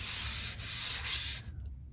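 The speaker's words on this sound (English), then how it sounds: "we're finally done sanding" A wooden stovetop cover is sanded with three rapid back-and-forth rasping strokes, close and loud, then the scratching stops.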